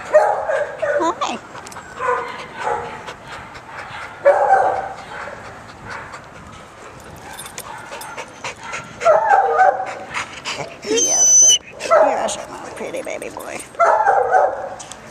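A small lap dog whimpers and yips close by in short, excited bursts, mixed with soft panting, while a person talks to it affectionately throughout.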